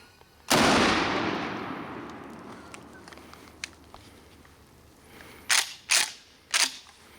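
A Mossberg Nightstick 12 gauge pump shotgun fired one-handed outdoors, one loud close blast with a long fading tail, followed a few seconds later by several sharp, short metallic clicks and clacks.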